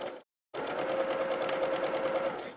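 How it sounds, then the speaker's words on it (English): A sewing machine stitches straight across a bulky quilt block, falling silent briefly before a steady, close mechanical whir with a rapid rhythmic needle pulse runs for about two seconds. "I'm just going to sew just across like I did the other ones."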